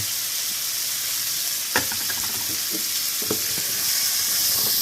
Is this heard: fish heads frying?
yes